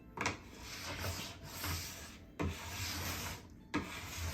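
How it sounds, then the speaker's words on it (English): Long strokes of a scraper and brush work wax across a snowboard base, giving a soft rasping rub in three or four repeated passes, close and fairly quiet, with no talk. "as you're scraping the wax, you're also working it back in"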